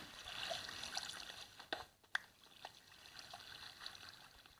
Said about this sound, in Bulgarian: Слагай вода.